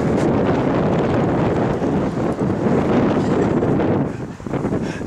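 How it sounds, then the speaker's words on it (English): Strong outdoor wind buffets the microphone in a steady, loud, low roar that continues throughout, easing slightly near the end. "Whew, that wind is rough."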